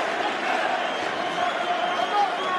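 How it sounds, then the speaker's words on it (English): A Boston crowd at a UFC heavyweight title fight roars steadily behind the champion, a dense continuous wall of cheering throughout, with a commentator's voice mixed in. "Boston crowd getting behind the champion Stipe Miocic, trying to slay the dragon tonight."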